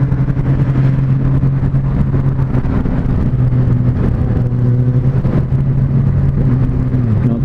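Loud, steady engine hum of a 2018 Honda Goldwing bagger motorcycle while riding, holding a constant pitch with brief shifts and revs, close to the microphone.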